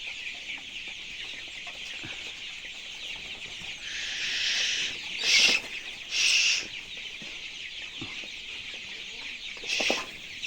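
Twenty-one-day-old farm chickens cluck and chatter in a few louder bursts over a soft background murmur of the flock.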